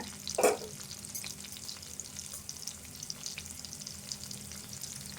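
Onions frying in a pan for egg soup, a steady sizzle with a brief stirring burst near the start, close and fairly quiet throughout with no talking.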